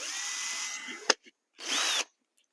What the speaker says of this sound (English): I am drilling a little hole into the end